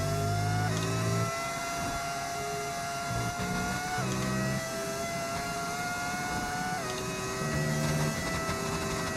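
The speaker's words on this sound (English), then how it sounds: "Obviously, I do have an engine mod, so, you know, it sounds like a V10." A Formula 1 car engine in the F1 25 racing game, a Lamborghini team car with a V10 sound mod, whines at high pitch and climbs through repeated upshifts, each gear change briefly dropping the revs before they rise again.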